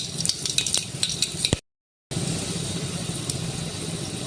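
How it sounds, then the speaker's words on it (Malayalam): Cinnamon sticks and cloves dropped into hot oil for a soybean biriyani-style dish, giving a loud close sizzle with scraping stirring clatter, a brief silent gap, then steady frying hiss. "ഇനി ഇതിലേക്ക് നമുക്ക് 2-3 കറുകപ്പട്ടയും 2 ഗ്രാമ്പുവും ഇട്ട് കൊടുക്കാം"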